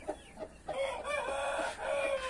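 A naked neck rooster in molt crows close by, one drawn-out, strained call rising after a few short clucks, clear and alone.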